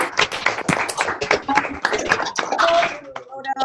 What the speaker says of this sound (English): let's give Tim a huge round of applause.